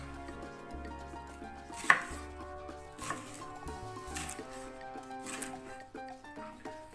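A red paprika bell pepper is chopped on a cutting board, with a loud sharp knock near the start followed by steady close knife taps and light scraping, and no talking.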